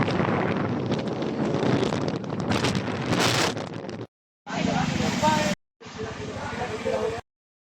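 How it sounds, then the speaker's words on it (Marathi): Strong coastal wind on the Konkan coast near the sea forts buffets the microphone in heavy, continuous roaring gusts, broken by two brief silent cuts. "ते वारा पण खूप आहे"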